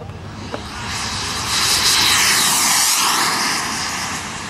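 A small radio-controlled Ultra Lightning model airplane buzzes overhead, its high-pitched engine whine swelling louder as it passes close, then easing off as it moves away.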